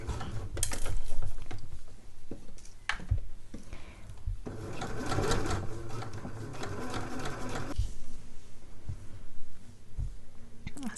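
A sewing machine stitches around the neckline of a caftan in short bursts, with a steadier run of a few seconds in the middle amid fabric handling and clicking mechanism sounds.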